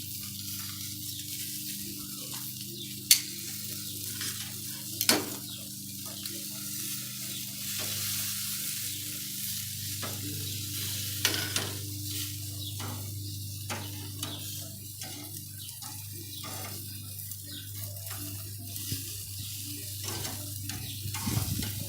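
Meat cooks on a grill with the middle burner on low and the sides on high, giving a steady close sizzle throughout with a few faint taps and clinks.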